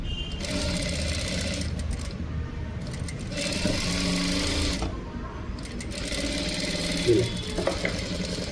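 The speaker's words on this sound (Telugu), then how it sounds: "దాన్ని అదే కుట్టు మీద పడేసిన తర్వాత దీన్ని ఇలా పెట్టేసి ఇంకా ఇప్పుడు మనం స్టిచ్చింగ్ చేసేసుకోవాలి" A sewing machine runs in several bursts of rapid mechanical whirring as it stitches thread piping onto a square blouse neckline, with short pauses and a clack near the end.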